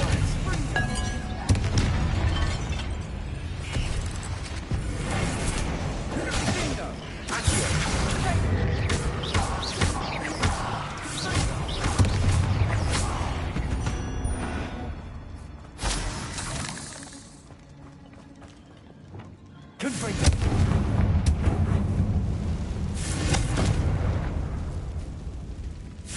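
In Hogwarts Legacy, the Confringo blasting spell sets off booming explosions and shattering bursts amid game combat, with loud layered impacts, a quieter lull near the middle, and a voice speaking at times.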